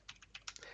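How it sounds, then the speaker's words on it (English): A terminal command typed on a computer keyboard: a quick run of about eight crisp, close key taps in a brief uneven burst, with no voice. "let's type in sudo pacman-s"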